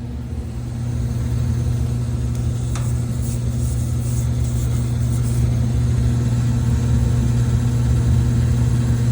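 A 1978 furnace hums steadily with a low, even motor drone and constant airflow rush, close and unchanging apart from a faint click early on, with no voices.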